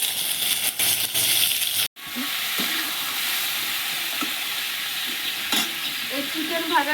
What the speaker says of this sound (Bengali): চিকেনটা ভাজার জন্য আমি আগে কটা রসুন দিয়ে দেবো, দিয়ে এবার এই চিকেনটা